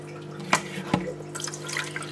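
Water siphoned from a bucket into a shrimp tank gives a few soft, close drips and splashes, two clearer plops early on, then a faint trickle.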